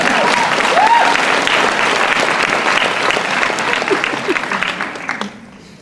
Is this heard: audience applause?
yes